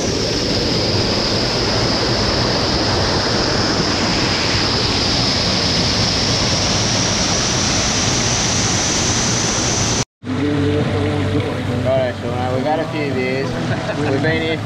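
Roaring waterfall pours in a dense, continuous rush heard close up and loud, briefly cutting out before resuming, with people talking over the rushing water toward the end.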